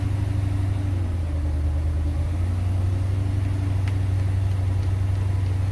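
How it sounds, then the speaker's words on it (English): A 1979 Sea Ray SRV 300 weekender boat's starboard engine idles steadily up close, a low, constant rumble with an even mechanical throb and no talking. "That's the starboard engine."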